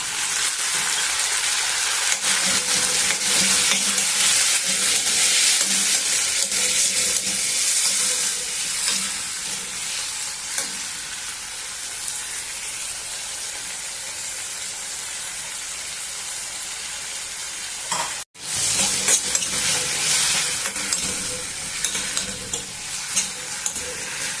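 Finely chopped tomatoes frying with onions in a pan, for an amla dal, crackle in a loud, steady sizzle. Spoon stirring and scraping runs throughout, with a brief break near the end.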